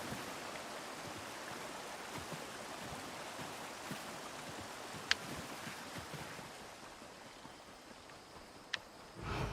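Waterfall and rushing water in a fantasy game landscape on High Isle in Elder Scrolls Online make a steady, broad, continuous roar, with a couple of faint clicks and no talk.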